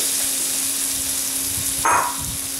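Liver sizzles steadily in a pan just after a splash of vinegar goes in, a close continuous frying hiss with a brief louder burst near the end.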